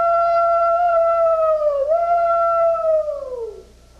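A single voice imitates a railroad train whistle at a 1984 stage show: one long, loud, steady 'woo' that wobbles briefly midway, then slides downward and fades at the end.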